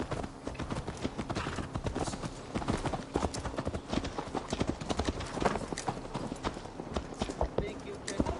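Steady clip-clop of horse hooves at a walking pace in a video game, close and continuous, with no voices.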